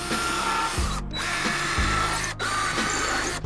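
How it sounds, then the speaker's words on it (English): A power drill whines loudly into a wall, with short pauses and changes in motor pitch as it bites in. "I gotta drill as close as possible to the right side to avoid the pipe or wire"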